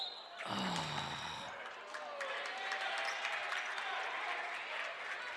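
A high school varsity boys basketball crowd reacts to an over-the-back call in a gym, a mixed murmur of cheers and groans fading to a steady hum under nearby talk.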